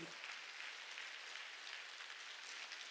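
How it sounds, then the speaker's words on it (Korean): Faint, distant applause from a church congregation at a summer mountain revival meeting, a soft continuous wash of many clapping hands with no talk over it. "박수 치라"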